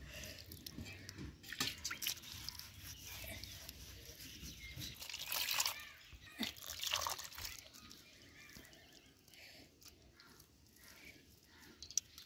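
Water trickling and sloshing faintly as black ash is rinsed off roasted food by hand in a village kitchen, soft intermittent drips and splashes with quiet background noise.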